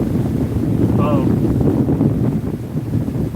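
Steady wind rushes and buffets the microphone aboard a boat heading north from Oriental on the Great Loop, a loud continuous roar with a brief tonal whistle partway through.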